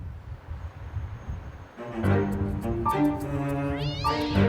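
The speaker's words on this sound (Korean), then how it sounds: "달려들어 싸우는 고양이들." After a brief rustle, male stray cats break into loud, drawn-out yowling and wailing cries as they fight, rising and wavering, close by and intensifying toward the end.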